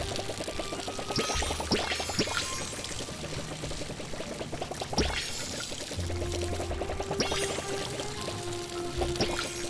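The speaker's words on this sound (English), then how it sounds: "time to water everything" A watering can pouring over crops in the video game Palia, a steady splashing trickle of water in repeated bursts, moderately loud and close, with no talking.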